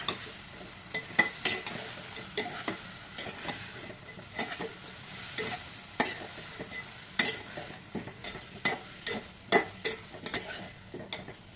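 Fried chicken wings being stirred and mixed with tomato in a pan, restaurant style: a soft steady sizzle under frequent scraping and clinking strokes of a metal utensil against the pan.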